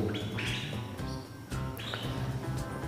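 A canary chirps in a series of short, bright calls up close, with a soft background hum behind it.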